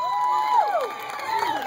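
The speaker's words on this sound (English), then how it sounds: "Give them a big round of applause." A crowd at the outdoor Lompoc Flower Festival concert cheering, with whoops and high shouts over applause, lively and fairly close for a brief moment.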